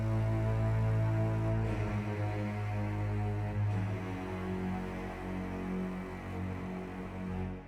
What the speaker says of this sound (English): Then we have our double basses.